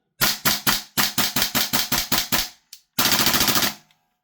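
A Salvo Precision MCX Spear LT Rattler gas blowback airsoft rifle fires a rapid string of sharp, loud, evenly spaced shots, pauses briefly, then rips off a faster full-auto burst before stopping.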